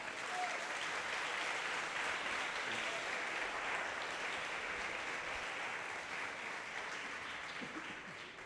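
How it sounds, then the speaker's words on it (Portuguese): A church congregation applauds in a steady, sustained wash of clapping at moderate distance, continuing evenly throughout and easing slightly at the end. "dá um aplauso a Jesus"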